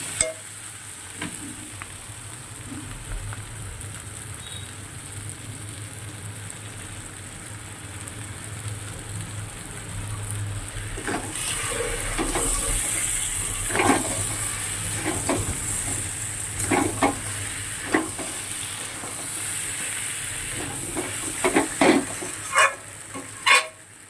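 Crab curry masala sautéing in a pan, a steady low sizzle under intermittent scrapes and taps of a stirring spoon that grow busier in the second half, with no talking.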